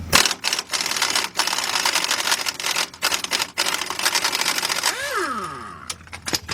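Rapid clattering of an impact or ratchet tool loosening a 14 mm bolt on a strut bracket of a 2008 Ford Fusion, continuous and close for most of the clip, ending with a brief whirring spin-down.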